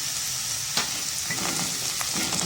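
Onions browned lightly in a pan, with finely chopped pumpkin peels just added, keep up a steady sizzle and crackle, marked by a few sharp pops and soft stirring scrapes; no one speaks.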